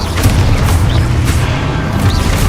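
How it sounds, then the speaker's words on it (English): Explosion effects from a Confringo spell in Hogwarts Legacy, a continuous loud rumbling boom with crackling debris layered over heavy low-end noise, close and sustained throughout. "Explode. Confringo."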